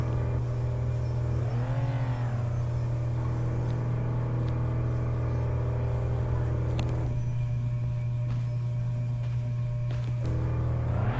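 A car in a hunting video game drives and is parked, its engine a steady low drone that swells briefly as it revs, then settles into an idle.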